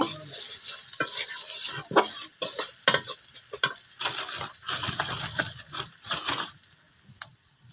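Chili and onions frying in a pan for a home-cooked dinner of meat and dal, a close sizzle broken by brisk, irregular stirring and scraping, fading somewhat toward the end.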